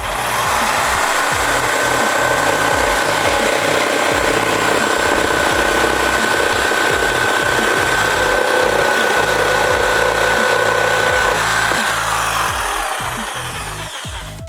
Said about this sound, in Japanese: じゃあこの縦ラインでゆっくり切ります。